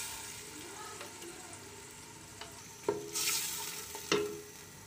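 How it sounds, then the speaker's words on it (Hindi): Tomato and onion paste being stirred and fried in a pan for a home-style potato and country chicken curry, a soft sizzle with a few sharp spoon scrapes and clinks against the pot. "अब इसको थोड़ा सा मैं भूनूंगी।"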